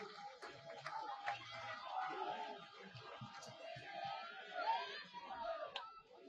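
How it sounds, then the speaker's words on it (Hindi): Audience at a Delhi evening devotional event clapping loudly together, a steady dense patter of many hands that lasts throughout. "एक बार जोरदार तालियां आप सभी लोग अपने लिए बजाएं"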